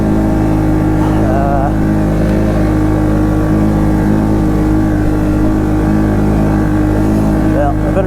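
A Polaris ACE 570 snowmobile engine chugs steadily at low speed on a test drive, a loud continuous droning hum with slight variations in pitch throughout.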